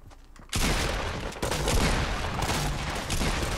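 Rapid gunfire bursts in a Fortnite Battle Royale duo match, opening on a sharp shot after a quiet moment and then running as dense, loud, near-continuous shooting to the end.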